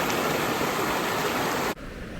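Creek water rushes steadily on the Eaton Canyon trail, a loud continuous broadband wash close by that cuts off abruptly near the end, leaving a quieter hiss.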